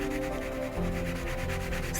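Colored pencil shading over paper with light to medium pressure, a continuous soft scratchy rubbing heard up close and alone, with no talking.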